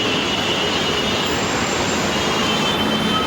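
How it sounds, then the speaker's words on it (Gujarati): A Mumbai Metro train at Borivali metro station rumbles in a dense, continuous roar with a faint high wheel squeal riding on top, steady and loud throughout with no voices. "આ છે બોરીવલીનું મેટ્રો સ્ટેશન"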